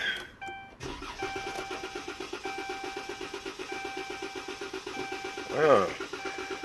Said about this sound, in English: spins over. It's not catching. It's not starting.